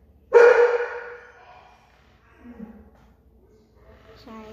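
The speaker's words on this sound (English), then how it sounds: "Sorry, my dog's barking." A dog barks indoors in one loud, close burst near the start, followed by a few fainter yips and whimpers over quiet room noise.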